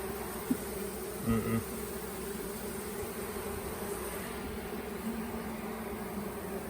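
Honeybees drone steadily around an open hive during an inspection in a cotton field on a hot summer day. The dense, continuous buzz fills the air, with a couple of faint knocks.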